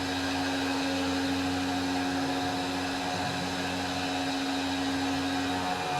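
A Tormach PCNC 1100 CNC mill cutting aluminum with a carbide roughing end mill at 5,140 RPM, producing a steady, loud, continuous spindle whine and cutting hum with a strong constant tone throughout, no speech.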